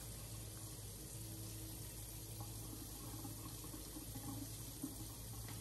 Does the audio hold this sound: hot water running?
yes